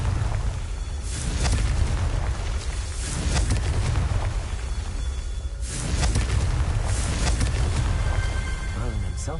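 Booming spell blasts from the Confringo curse in Hogwarts Legacy roll out repeatedly in heavy, rumbling bursts that swell and fade over a dense, continuous game soundscape, with a voice calling out the spell.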